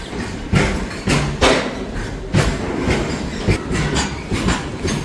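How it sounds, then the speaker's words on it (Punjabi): A mail train rolls past close by through Rajpura Junction station in Punjab, its wheels beating a loud, steady clickety-clack over the rail joints with dull thumps. "ਲਓ ਜੀ ਮੇਲ ਟ੍ਰੇਨ ਵੀ ਇਹ ਜਾ ਚੁੱਕੀ ਆ"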